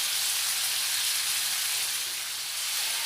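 Potatoes fry in oil with turmeric and salt, giving a continuous, even, bright sizzle that holds at a steady close level with no other sounds.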